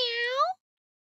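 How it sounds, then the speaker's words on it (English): A single short cat meow, clear and close, rises and then cuts off abruptly after about half a second into silence. "Meow. That's cat's noise."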